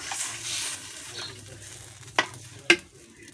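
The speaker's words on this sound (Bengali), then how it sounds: "ঝোলটা ফুটে গেছে" Fish curry gravy bubbles in a pan, a low steady simmer close by, broken by two sharp clacks of a utensil against the pan near the end.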